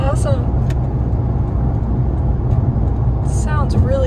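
A 2016 Porsche Panamera, the last year of the first generation, cruising: a steady low engine and road rumble heard from inside the cabin, with brief voices at the start and end.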